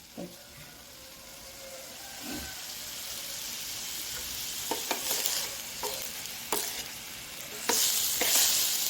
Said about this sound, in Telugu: బాగా వేగాలండి